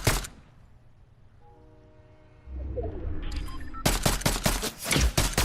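Fortnite gunfire: after a quiet stretch, a rapid burst of sharp, loud shots rings out near the end, about eight cracks in quick succession over a low game background.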